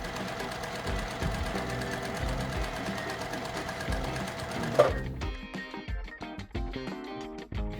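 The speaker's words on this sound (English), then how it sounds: "Now it's time to sew our rows together, right sides together." A sewing machine stitching quilt rows together, right sides facing, runs in a rapid, steady close-up whir for about five seconds, then stops and leaves only lighter scattered handling sounds.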